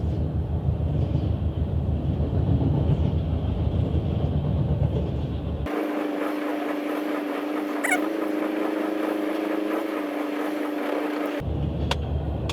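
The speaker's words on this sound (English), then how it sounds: "Hopefully this is not one of those like mile-long trains." A train rumbles past a railroad crossing nearby, heard from a waiting car, a steady low roar with a sudden shift partway through to a brighter, rattling clatter before the rumble returns.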